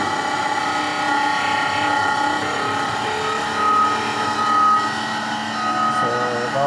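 The fan motor of a washing machine with an EC6 error runs noisily. It makes a steady mechanical whirr and rattle with a faint high whine, heard close up and continuously.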